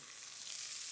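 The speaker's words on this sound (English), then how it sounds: "I want to just fry those onions until they start to get some color" Onions fry in a pan with a steady, close hiss and crackle of hot oil, constant and unbroken for about a second, with no voices.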